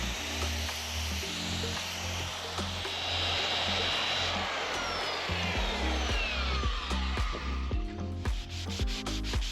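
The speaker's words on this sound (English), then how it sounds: "who doesn't love to watch a bit of sanding?" Power sander running over floor boards with 240 grit paper, a continuous loud rubbing hiss that shifts slightly in pitch as the pad moves, with no talking.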